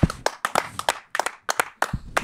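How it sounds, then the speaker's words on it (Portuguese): Hand claps in Cologne during the Euro football championship come as a few close, sharp, irregular bursts with brief gaps between them, sounding like only a handful of people. "Palmas, Palmas para Colónia"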